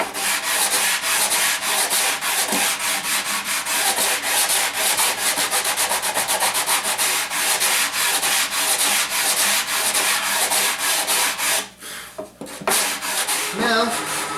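Sandpaper rubs back and forth along a wooden guitar neck, a steady close rasping scrape in rapid strokes that continues without pause and drops off briefly near the end.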